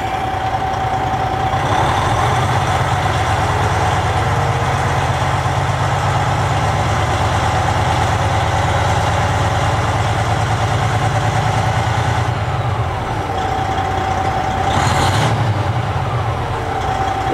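A 2008 Freightliner Columbia truck with a Detroit diesel engine idles out of gear, a steady loud low rumble running the whole time with no talk over it.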